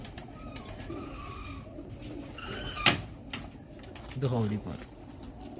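Breeder pigeons coo softly in a loft, a low warble rising near the end, as someone speaks briefly and a sharp knock cuts through.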